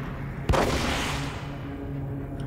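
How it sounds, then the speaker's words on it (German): A magnum revolver in The Evil Within video game fires one heavy, sharp shot, then a rumbling tail fades over a steady, dark background drone. "das war jetzt so die Ulti-Munition, die ich jetzt mal eben schnell verschossen habe"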